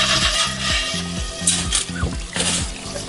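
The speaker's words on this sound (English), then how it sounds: "Scrub away." A cast iron frying pan is scrubbed in hot water, with repeated back-and-forth rasping strokes at a steady rhythm, close and moderately loud, with some splashing and no talk.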